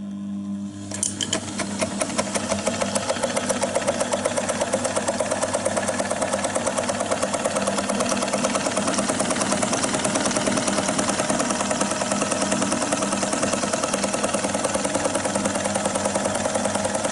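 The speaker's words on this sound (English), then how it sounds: "as soon as I switch that transformer on, the motor's going to go." A vintage DeVry 35mm film projector motor starts up and runs steadily, a loud, continuous mechanical whir with a fast rhythmic clatter that holds even for the whole stretch, no voices present.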